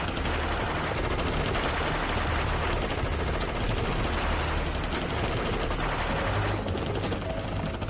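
Dense, continuous gunfire aimed at a helicopter in a Hindi-dubbed drug-mafia TV drama roars loud and unbroken, with heavy bursts overlapping throughout.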